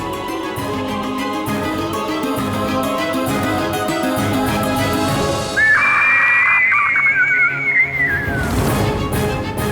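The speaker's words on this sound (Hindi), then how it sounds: "ये तो टिटहरी के चीखने की ध्वनि है।" A red-wattled lapwing screeches with a shrill, whistled call that rises and wavers for a couple of seconds midway, standing out over steady background music.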